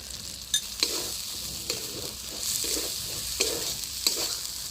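Ginger paste and turmeric powder frying in a pan for a jackfruit curry: a steady, bright sizzle with a spatula scraping and tapping the pan every second or so.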